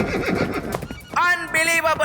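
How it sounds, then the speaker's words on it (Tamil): A cartoon horse gives a loud, wavering whinny that rises and falls in two short bursts, following a stretch of busy talk and action sounds. "மோட்டு மறுபடியும் குதிரையில ஏறி ரைட் பண்ண ஆரம்பிச்சிட்டாரு."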